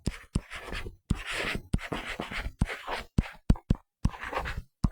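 Handwriting with a pen or chalk on a surface, in quick bursts of close scratchy strokes separated by short pauses, steady and alone with no talk.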